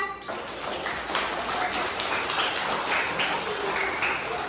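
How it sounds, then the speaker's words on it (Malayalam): Children in a classroom clap together in a steady, dense round of applause that lasts the whole stretch. "നല്ലൊരു കൈയടി എടുത്ത."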